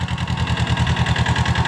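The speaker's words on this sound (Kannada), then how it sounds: "ಮಹೀಂದ್ರಾ ಜಿಒ 245 DI ಟ್ರ್ಯಾಕ್ಟರ್ ವಿಶೇಷ ನೀವು ನೋಡ್ತಿರುವುದು" A Mahindra Jivo 245 DI tractor engine runs at a steady idle in an Elakki banana plantation, its close, rhythmic low chugging pulses repeating evenly without pause.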